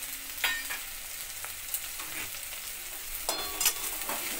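Potatoes crackle softly as they fry in a pan of oil with fenugreek seeds and bay leaf, giving a quiet continuous sizzle broken by a few sharp clicks from stirring.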